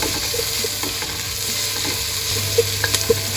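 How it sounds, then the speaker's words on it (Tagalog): Red and white onions sauté together in a pan with a dense, steady sizzle, heard close up. A few sharp spoon clicks come near the end, and no voices are heard. "Antayin lang po natin maging translucent yung mga sibuyas. Pinagsama ko po yung pula at puting sibuyas."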